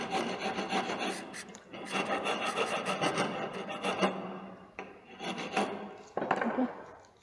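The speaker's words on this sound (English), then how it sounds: "we will be filing the surfaces also, the ends of this groove also" Rasp file worked across the wooden surfaces and groove ends in a carpentry shop, a series of rough scraping strokes in an uneven rhythm with brief pauses between them, close and fairly quiet.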